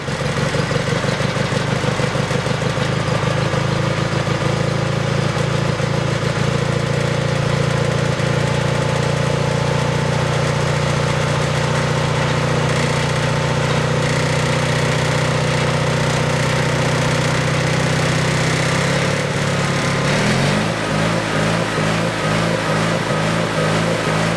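A John Deere 420 lawn tractor engine idles close by after being flooded, hunting with revs rising and falling unevenly. The tone shifts lower near the end, with no talking.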